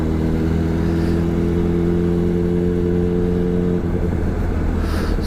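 A Honda CBR superbike underway, its engine a steady loud drone with sustained tonal hum that eases and roughens near the end, close and continuous.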